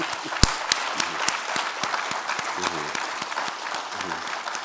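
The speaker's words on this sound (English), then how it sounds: "I have no difficulty at all asking you to clap for the speaker again" An audience claps steadily for a lecturer after a distinguished public lecture, a dense, even applause with a few sharp nearby claps and voices mixed in.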